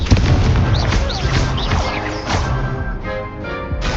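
Spell-blast booms from the Confringo fire spell in the Hogwarts Legacy video game, a dense run of loud explosive bursts layered over busy game combat noise with no pause across the stretch.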